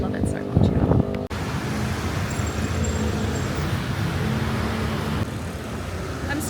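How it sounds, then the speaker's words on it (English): Steady roadside traffic roar beside a main road in Bali, with wind buffeting the microphone and a brief louder burst near the start, continuous broadband noise throughout. "I'm sorry for the noise, I'm by a main road."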